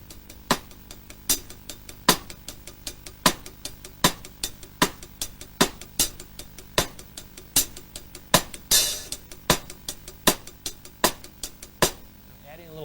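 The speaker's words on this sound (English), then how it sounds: "but we double up on the snare, we can actually play 2 time signatures with this one technique." Drum kit with hi-hat and a doubled-up snare pattern, crisp evenly spaced hits in a steady groove with sharper snare strokes and a brief cymbal wash near the end.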